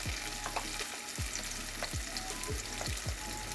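Hilsa fish seasoned only with onion and salt fries in a pan, with a steady, dense sizzle broken by regular soft clicks and taps throughout.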